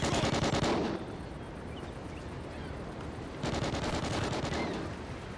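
Rapid automatic gunfire from the Call of Duty: Ghosts multiplayer game, two loud sustained bursts at the start and again after a short lull, with continuous battle noise underneath.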